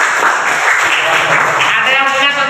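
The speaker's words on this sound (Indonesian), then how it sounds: "Berikan aplaus luar biasa" Short burst of dense audience applause and clapping in a classroom teaching session, steady and fairly loud for its whole length, with no talking over it.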